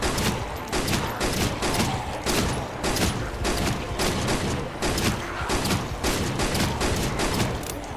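Rapid repeated shotgun blasts in Project Zomboid, a dense run of loud, close reports at a fast steady rhythm lasting throughout, with game ambience underneath.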